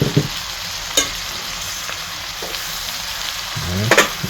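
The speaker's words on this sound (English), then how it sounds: "Let that garlic cook for about a minute or two." Garlic and onions frying in a pan: a constant close sizzle with a spatter-like hiss, broken by a few sharp clinks and scrapes of stirring, a louder stir near the end.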